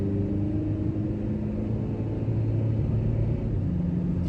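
A car with an automatic transmission climbing a hill, giving a steady low engine rumble and drone from inside the cabin, fairly loud and even throughout.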